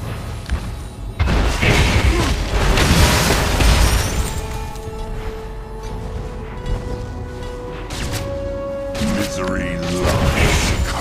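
A turret being destroyed in League of Legends: a burst of heavy booming, crumbling impacts up front, then a sustained rumble with ringing tonal game effects over dense background mixing and occasional voice.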